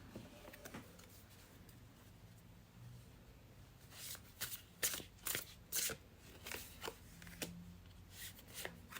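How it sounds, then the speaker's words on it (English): Tarot cards are shuffled by hand nearby. Soft riffling and slapping start faintly, then a burst of crisp, irregular card snaps and flutters follows in the second half, with no talking. "Let's now pull your tarot cards."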